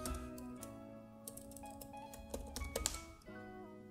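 Keys tapped on a computer keyboard while entering a command in Kali Linux, a quick run of soft, closely spaced clicks over a steady background hum, a few louder strokes near the end.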